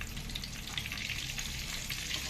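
Eggs fry in hot oil with a sprinkling of chilli powder, a steady close sizzle and crackle running the whole time with no pauses, part of making egg dum biryani.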